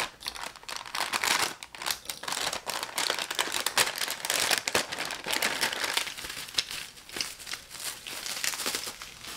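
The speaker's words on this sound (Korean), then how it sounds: "하나씩 뜯어보도록 할게요" Parcel packaging being torn open and unwrapped, with sustained crinkling and crumpling of plastic or paper wrap, close and fairly loud, alone without talk.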